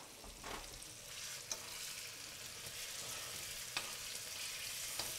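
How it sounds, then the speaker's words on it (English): Spices with half a teaspoon of seasoning and a quarter teaspoon of tandoori powder frying in a pan for Caribbean ackee and saltfish, giving a steady soft sizzle with a few faint scrapes as they are stirred. "I'll give that a quick stir."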